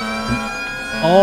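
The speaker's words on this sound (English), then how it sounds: "an ear-splitting siren blares all the way from the other side" A loud, ear-splitting siren blares in the Limbus Company video game, a steady wailing tone that rises at the end, with a brief spoken exclamation over it.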